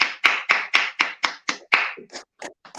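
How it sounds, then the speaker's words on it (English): A single person claps alone at a steady quick rhythm, about a dozen sharp, loud, close claps that slow and grow uneven toward the end. "Go on, clap it up for me."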